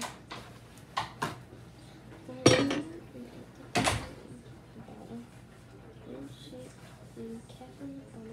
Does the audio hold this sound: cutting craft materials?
no